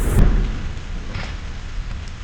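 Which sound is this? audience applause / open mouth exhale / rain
rain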